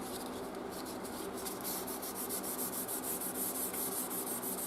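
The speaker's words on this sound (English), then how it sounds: "And then hit it one more time with the Dremel." Close, steady abrasive whir of a Dremel rotary tool smoothing a metal part of a Winchester Model 1400 Ranger 12-gauge shotgun, running continuously at low volume with a slight pulsing grind.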